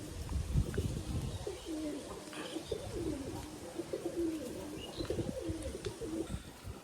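Lakha pigeons coo repeatedly in soft, low, rolling calls that overlap at a quiet, close-by level, with no talking.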